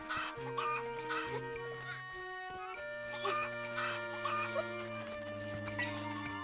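Cucco chickens cluck in The Legend of Zelda: Echoes of Wisdom, repeated game-style clucks and chatter over steady background music, with a voice talking faintly underneath.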